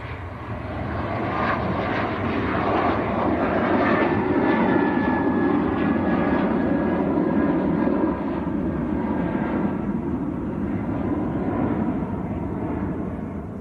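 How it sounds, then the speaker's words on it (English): A Ryanair jet airliner takes off at Manchester Airport, its engines a loud, steady roar that holds strong across the whole stretch with a faint rising whine over it. "Ryanair just getting airborne."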